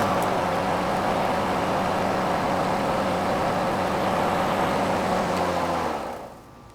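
ECHO DLM 2100SP 56V brushless self-propelled lawnmower with a 21-inch steel deck, running at a loud, steady, close drone that holds evenly for about six seconds, then cuts off into quiet.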